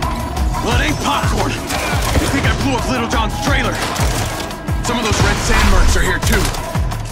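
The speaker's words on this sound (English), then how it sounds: "Is that gunfire I'm hearing?" Rapid bursts of gunfire crackle continuously amid loud action noise in a video game trailer, dense overlapping shots and impacts with no pauses.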